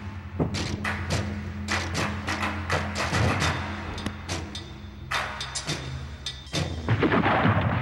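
Artillery fire in a Second World War battle at Stalingrad, with repeated heavy booms and sharp thuds in irregular bursts over a constant low rumble, some blasts near and loud, others more distant.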